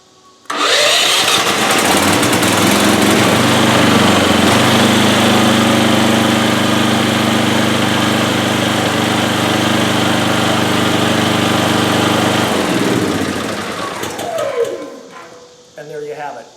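A Champion 9000/7250 portable generator on an extended run time fuel kit starts and runs loud and steady with a constant engine drone for about twelve seconds, then shuts off and winds down into quiet.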